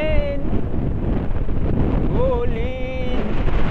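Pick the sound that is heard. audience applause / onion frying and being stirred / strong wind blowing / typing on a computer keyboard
strong wind blowing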